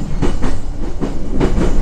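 A JR East E233 series Chuo Line rapid train runs along the track, with a loud, steady rumble from nearby and a rhythmic clickety-clack of the wheels over the rail joints.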